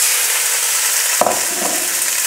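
Lamb pieces sizzle in a pan that has come up to temperature, a constant close hiss of frying broken by a sharp burst as meat is placed in and settles.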